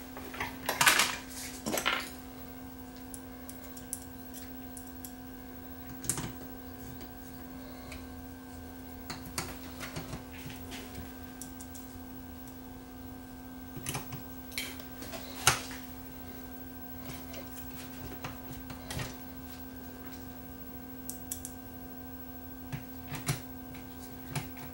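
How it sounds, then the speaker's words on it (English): Small metallic clinks and taps while screws are driven in to hold the mechanism of a Sanyo RDS20 cassette deck under repair, sporadic close sharp ticks over a constant hum, no speech. "Now I just got to put a couple screws in to hold the mechanism in place"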